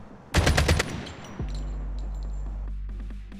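Rapid automatic gunfire from a mobile shooter game on an ROG phone, a loud burst of about six shots, then a steady electronic hum with faint clicks and pings.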